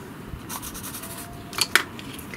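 Soft coloured pencils scratch and rub on paper in short, light strokes close by, faint and papery, with a couple of sharper ticks near the end.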